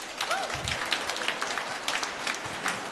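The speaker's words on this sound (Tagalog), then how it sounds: "Pumalakpak ng malakas." Applause from a church congregation during a homily, a steady wash of clapping that holds evenly throughout with faint voices mixed in.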